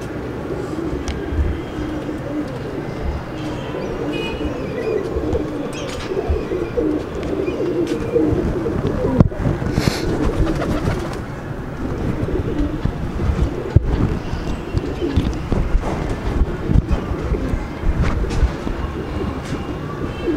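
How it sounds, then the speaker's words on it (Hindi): Pigeons at a pigeon loft coo and flutter near and loud over a steady low rumble of passing rail traffic, with brief sharp knocks and no talking. "थोड़ा सा मैंने दाना इसलिए डाल दिया था ताकि सारे कबूतर मतलब बाहर आ जाएं"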